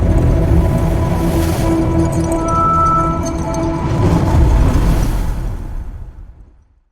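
A Shinkansen bullet train travelling at speed, heard from inside as a loud steady rumble and roar with faint tonal whines, which fades out completely at the end.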